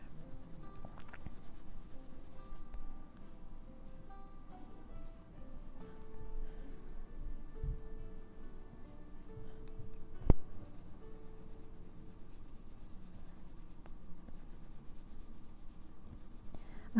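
Gel pens scratch and glide over paper while an advent calendar illustration is colored in with Holbein Artist pens, giving soft, steady rubbing strokes that are close and quiet, with occasional small taps.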